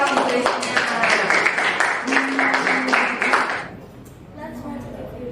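A class of students claps together in a quick burst during an English lesson, loud and close, then breaks off into quieter voices.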